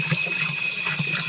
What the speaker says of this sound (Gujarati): ચોખ્ખું પાણી આવે.